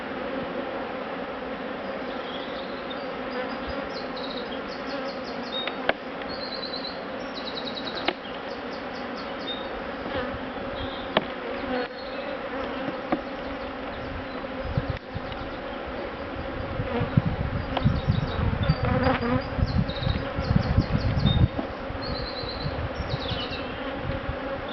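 Bees buzz continuously around a hive with wax and plastic comb frames, a dense, close insect drone with individual wingbeats passing near, growing slightly busier toward the end.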